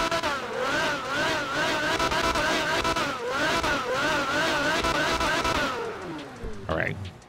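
A LaFerrari in GTA 5 revs loudly in rising and falling sweeps, its engine tone climbing and dropping repeatedly before cutting off near the end, with a voice briefly heard.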